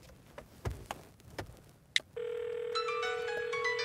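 A telephone call ringing tone sounds steadily through a headset after a few soft clicks and taps, a continuous electronic tone that stays level until the end.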